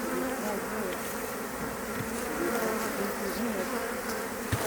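Honeybees buzz steadily in a bee yard, a dense, continuous drone close by that holds at an even level with no voices.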